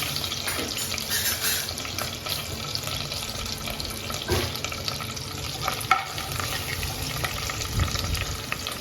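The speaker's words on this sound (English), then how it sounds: "lots of splattering is going to happen" Oil spatters and crackles steadily in a pan while crab is fried for coconut sukha, a constant close hiss with scattered pops and one sharper crack.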